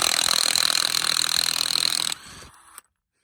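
HYCHIKA cordless impact wrench breaking loose a lug nut torqued to 140, a loud rapid hammering buzz for about two seconds, then a quieter spin-down and a final click before silence.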